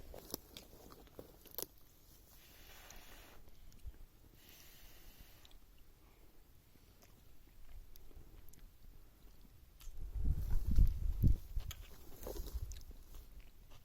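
Someone eats a mouthful of tahri, a vegetable rice biryani with curd, lemon, carrot, onion and green chilli, outdoors on a mountain trek; quiet, close chewing builds into louder crunching and biting near the end.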